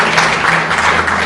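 An audience at a forum's founding ceremony applauds, with steady, dense clapping that fills the whole brief stretch at a fairly loud level.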